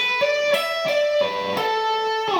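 Electric guitar playing a fast minor pentatonic lick with hammer-ons, pull-offs and slides, each bright note attacked in quick succession and sustained with a ringing, overdriven tone, heard alone.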